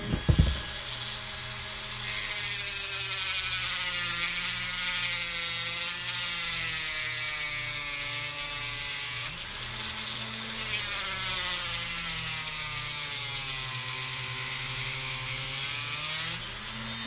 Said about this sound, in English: But we're going to use our Dremel with a sanding drum.